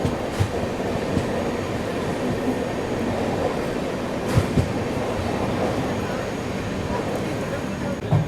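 A train runs on the railway line near Kengeri, heard from on board the Bengaluru–Mysuru Shatabdi Express. A steady, loud rumble of rolling stock carries faint rhythmic clacks throughout.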